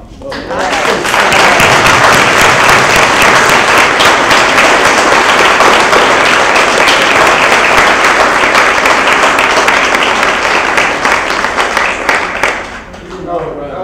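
An audience at a memorial lecture breaks into a loud, sustained round of applause, dense clapping holding for over ten seconds before thinning out at the end.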